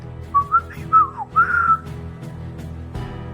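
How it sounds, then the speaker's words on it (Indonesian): A person whistles a wandering tune in short melodic phrases, clear and close, then trails off into quiet background. "Dari mulut pendekar 212 mulai terdengar siulan membawakan lagu tak menentu."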